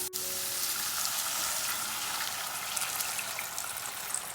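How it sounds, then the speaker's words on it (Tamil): Water poured into a pan of half-cooked vegetables for semiya breakfast, a loud steady hiss of sizzling and bubbling that carries on without pause, with a brief clink at the start. "இப்போ நம்ம தண்ணி சேர்த்துக்கலாம்."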